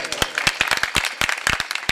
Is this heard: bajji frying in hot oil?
no